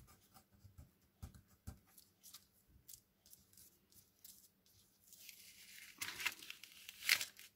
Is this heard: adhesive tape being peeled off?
yes